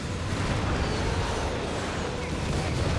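Dense, continuous rumble of an artillery barrage in Company of Heroes 3, with booms and crackling blasts overlapping steadily for the whole stretch and no gaps, the battle noise sitting loud and close in the mix.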